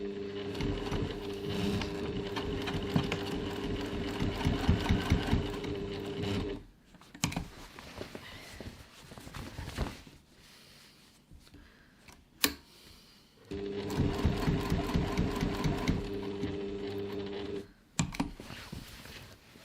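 A sewing machine stitches along the edge of a reusable fabric grocery bag in a steady mechanical whirring chatter, running in two long bursts separated by a quiet pause with soft handling noises, with no talking.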